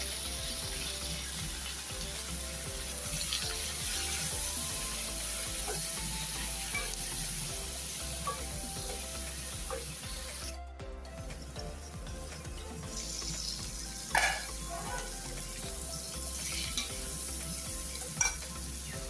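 Cumin, coriander and turmeric powder sauté in a pan for a fish curry. A constant sizzle is broken by a short gap, then louder spoon scrapes and clatters near the end.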